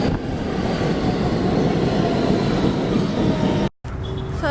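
A New York subway train rumbles loudly along the tracks, steady roar with faint clatter, then a brief cut leads into quieter squealing tones.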